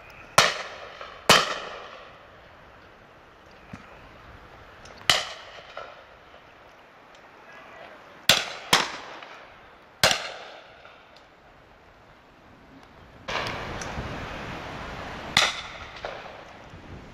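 Shotgun shots fired at a January pheasant and partridge shoot, loud sharp single reports spaced irregularly across the field, some in quick pairs, each fading with a short echo over quiet outdoor air.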